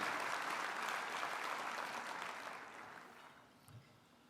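A final round of applause for Carl at a chamber of commerce annual meeting, faint, distant crowd clapping that gradually fades out.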